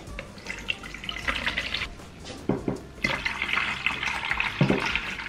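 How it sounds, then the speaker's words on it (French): Water splashing and trickling into a filter fountain in a home setting, a continuous pouring stream with uneven bursts and drips, fairly close. "On va mettre de l'eau dedans quand même."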